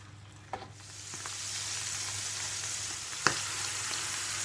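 Sausages sizzling in red wine in a frying pan, a steady close hiss that swells slightly, with a couple of sharp taps of utensil on pan.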